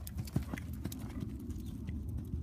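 A horse's hooves strike the arena footing during a dressage lesson, giving soft, rhythmic cantering thuds at close range with a faint background murmur.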